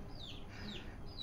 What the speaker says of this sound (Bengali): এই যে মুরগির বাচ্চা